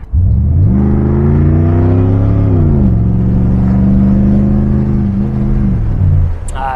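A 1991 Pontiac Trans Am engine revs hard under a sudden kickdown, its pitch climbing then dropping as the gear shifts, loud and close, with no voices.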